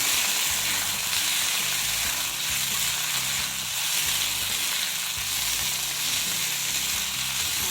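Kadvanchi, a wild vegetable, fries in hot oil in a pan, a dense continuous sizzle and hiss that stays loud and close throughout, with no one speaking.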